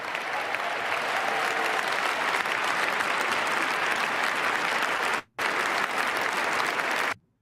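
Loud, sustained audience applause at a Trump speech, dense clapping with no talk, cutting out briefly near the end before resuming and stopping abruptly.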